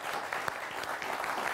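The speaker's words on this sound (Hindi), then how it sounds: "जोरदार तालियां देश के युवाओं के लिए" Studio audience in a televised panel debate claps loudly, a dense continuous burst of many hands lasting a moment, close and full.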